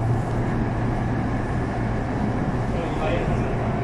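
Steady rumbling of a train moving along the rail near Cubao, Manila, a continuous low drone with a faint hum, heard from inside the car.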